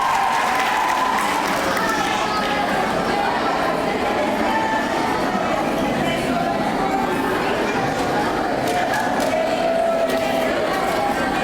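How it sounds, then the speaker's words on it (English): Sustained applause from an audience at a sixth grade graduation ceremony, a steady dense wash of clapping with some chatter mixed in throughout. "Round of applause."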